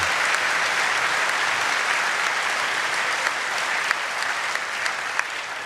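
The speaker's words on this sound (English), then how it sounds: "an extra applause please for Katie Valentine" Sustained, steady applause from a large audience at a university graduation ceremony, loud and even throughout with a few sharper claps standing out near the end.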